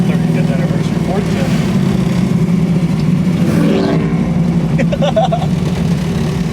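A 540 cubic inch Cruiser big-block V8 in a 1968 Camaro rumbles and revs smoothly from inside the car, a loud, steady low growl running under people talking.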